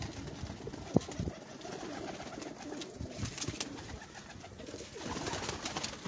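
Pigeons coo softly in low repeated phrases at a pigeon keeper's loft, with a sharp click near the start and light background noise throughout.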